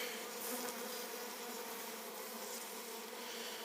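Honey bees buzz around an open hive, a dense, continuous swarm drone that stays faint and even throughout with no voices.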